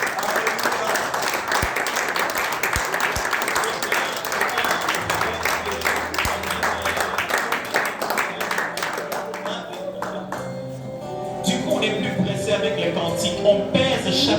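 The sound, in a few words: church congregation applauding and cheering at Easter service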